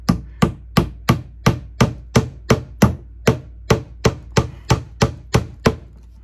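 Small tacks being hammered back into their old holes on a thrifted piece, about sixteen sharp, evenly spaced taps ringing out close and loud with no talking.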